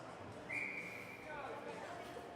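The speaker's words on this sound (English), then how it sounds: "Referee blows the whistle." Referee's whistle at a U19 AA girls' ice hockey game, one sustained shrill blast, fairly distant over the arena's crowd murmur and a commentator's voice.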